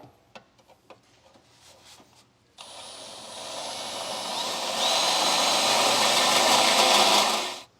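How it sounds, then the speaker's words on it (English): Burr bit in a power tool enlarging a hole in the frame of a 2023 GMC Terrain during a Curt trailer hitch install, a close, steady high-pitched grinding that builds after a few faint clicks and cuts off at the end. "Now to enlarge it, I'm going to be using a burr bit"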